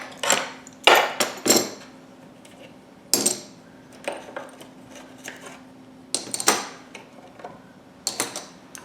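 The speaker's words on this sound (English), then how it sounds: "we're taking off the clamps for this lower block" Clamps are taken off the lower block of a violin under restoration, heard as a series of sharp metallic clicks, clanks and knocks, spaced irregularly and close by in a quiet workshop with a faint steady hum.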